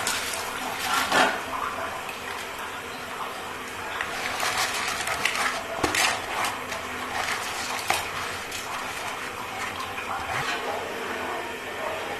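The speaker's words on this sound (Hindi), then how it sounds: "पानी का बॉयल आ गया है, तो मैं इसमें चावल डाल दूँगी।" Rice tipped into a pot of boiling water while cooking rice for a white chickpea curry meal, giving a steady watery rush and bubbling with a few brief splashes and clinks, moderately close throughout.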